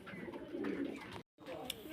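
Pigeons offered for sale coo in low, throaty bursts close by, with a short gap of silence partway through.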